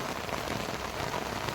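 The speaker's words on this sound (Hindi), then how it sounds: "इस ज़ोरदार बारिश में मेरा भीगने का भी मन कर रहा है" Heavy rain pours down in a steady, dense hiss of drops striking surfaces close by, continuous and even, with no voices.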